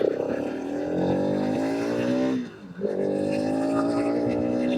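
A Bajaj Pulsar RS200 motorcycle rides through city traffic, its engine whining up in pitch, dropping briefly on a gear change, then pulling strongly again, loud and close.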